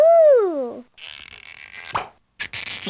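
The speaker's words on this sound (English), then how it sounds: "Some Disney cork pop sound effects there" Cartoonish cork pop effects from the Little Monster at School video game: a sliding whistle-like tone, then bursts of bright popping and fizzing, loud and close.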